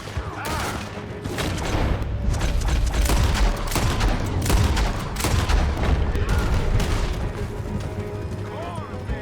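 Dense gunfire in Red Dead Redemption 2 during a horseback escape, loud overlapping volleys and sharp shots crackling almost without pause, with voices shouting beneath the shooting.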